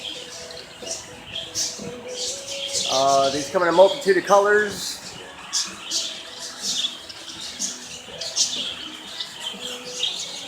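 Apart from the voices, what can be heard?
parakeets chirping in a bird enclosure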